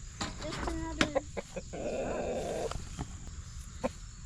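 Backyard hens and a newly introduced rooster in an established flock, with scattered clucks and short calls mixed with brief vocal bursts, fairly near, over a steady low outdoor hum, with soft human voice sounds at moments.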